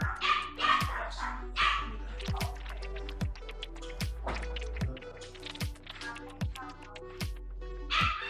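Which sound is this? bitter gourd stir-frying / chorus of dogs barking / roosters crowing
chorus of dogs barking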